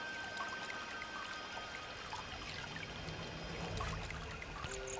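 Water fountains in the Emperor's Tomb video game pour in a steady, moderately quiet stream, with a continuous trickling wash and no talk over it.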